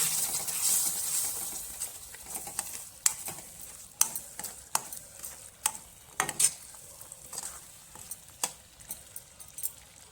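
A spoon scrapes and clinks against a pot in irregular strokes while thick Kolhapuri misal gravy gently sizzles and bubbles underneath, close and fairly quiet.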